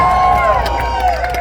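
Crowd noise at an SRX Racing event at a racetrack, a loud continuous roar of cheering spectators with a steady wash of voices that persists throughout.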